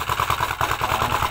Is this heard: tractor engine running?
yes